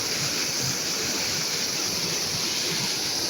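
Water pours over the rocks at Kannimar Odai near a temple in Salem after heavy rain, a dense, steady rushing roar that fills the scene without pause.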